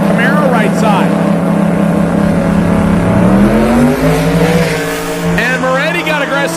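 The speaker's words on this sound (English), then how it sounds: "And Moretti got aggressive with it, 124 to the 60 foot for the turbocharged Mustang left-hand side." A turbocharged Mustang and a 2017 Camaro run side by side at a drag racing event, their engines roaring loud and close, rising and falling as they launch and accelerate, with an announcer talking over them.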